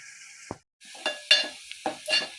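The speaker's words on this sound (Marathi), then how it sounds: "त्याच्यात मी 4-5 चमचे तेल आणि बारीक चिरलेला हा कांदा टाकून छान मी परतून घेणार आहे" Finely chopped onion in a few spoonfuls of oil is sautéed on a low flame, with short bursts of close sizzling and spatula scrapes broken by a brief moment of silence.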